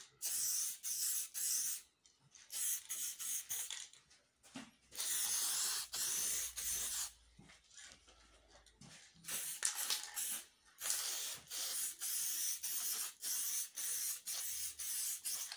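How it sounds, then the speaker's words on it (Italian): Clear acrylic spray paint from an aerosol can hisses onto a hand-engraved wooden sign in a series of short and longer bursts, with quiet gaps between passes and no talking. "con la vernice bomboletta spray acrilica trasparente andiamo a dare una"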